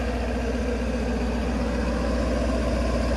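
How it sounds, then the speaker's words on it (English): A 2023 Ford F-350 XL's 6.7-liter turbo V8 diesel runs steadily during its regeneration cycle, a loud, continuous low rumble with a throbbing idle and a smooth mid-range drone. "The truck's in regen mode now, so it's pretty loud"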